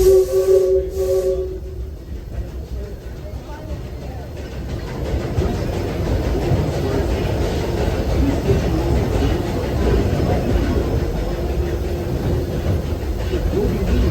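The Disneyland Railroad steam train rolls steadily along the rails with a loud, continuous rumble and hiss, a short whistle-like tone sounding at the start.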